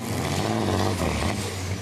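A 10,000-horsepower modified pulling tractor at a tractor-pulling race in Hungary roars loud and close with a continuous, heavy, droning engine note.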